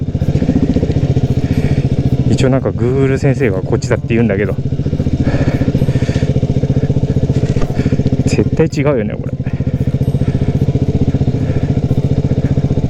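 A motorcycle engine runs loud and steady throughout on a narrow path near Suzaki Lighthouse, with someone talking over it for a few short stretches.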